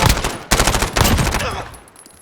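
MP5 submachine gun fitted with a muzzle brake firing in Modern Warfare, three loud rapid bursts close together, then a fading tail as the shooting stops.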